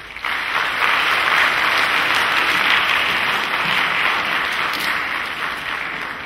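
School symposium audience applauding after a student leadership talk, a full, steady burst of many hands clapping that swells quickly and holds before easing slightly toward the end.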